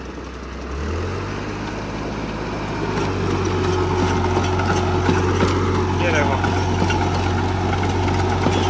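A New Holland 5500 tractor with 55 HP and a holed silencer drives a rotavator through wet field soil, its diesel engine running steady and loud with a low throbbing drone, as someone talks over it.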